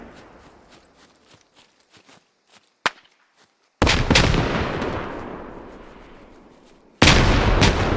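Two large frag grenade blasts go off in a multiplayer shooter match, each a sudden loud boom that fades into a long rumbling decay, after quiet footsteps and a single sharp shot.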